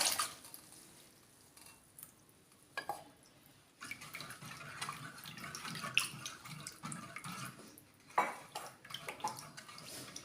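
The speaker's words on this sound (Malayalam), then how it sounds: "നമ്മൾ വേവിച്ച് വെച്ചിരിക്കുന്ന കൂർക്കയുടെ വെള്ളം ഇട്ടുണ്ട്. അതും കൂടി ഇതിലോട്ട് ഒഴിച്ചു കൊടുക്കുക" Water from boiled koorka is poured into a tamarind pulinkari curry in a pot, giving soft, intermittent splashing and trickling sounds at a low level in a quiet kitchen.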